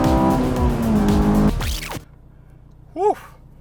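A Honda S2000 with an Invidia Q300 exhaust drones from inside the cabin as the engine revs under load with harmonic tones, then drops off sharply to near quiet, followed by a brief rising-and-falling whine.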